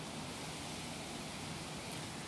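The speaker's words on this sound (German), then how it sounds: "Man hört halt nur den Wind durch dieses Gras so rauschen." Wind rushing through grass in a tidal floodplain forest nature reserve near Hamburg, a steady, soft, broadband hiss with no other sounds.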